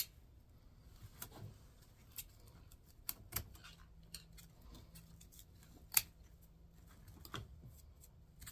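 Small scissors snipping moss on a grapevine craft, producing sparse, quiet clicks and snips at irregular intervals in an otherwise hushed room.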